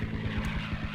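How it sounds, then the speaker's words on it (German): Propeller aircraft engine drones steadily overhead in the WWII strategy game Codename: Panzer, a continuous low throbbing hum with pulsing beats, fairly loud and close, no speech. "Ein blöden Flugzeug."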